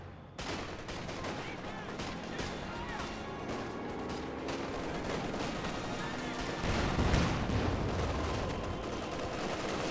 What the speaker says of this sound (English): Rear echelon getting suppressed by the MG34.